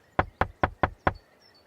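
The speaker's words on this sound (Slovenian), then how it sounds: "Tinky Binky trka na vrata." Five crisp knocks on a door, evenly spaced and close, ring out in a quick steady rhythm and then stop, followed by quiet.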